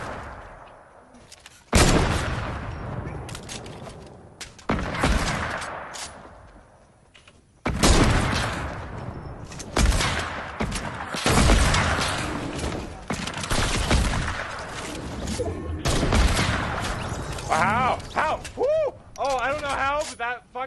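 Gunfire in a Fortnite or Apex Legends match, loud close shots and booming bursts recurring across the stretch with mechanical clatter between, under occasional voices.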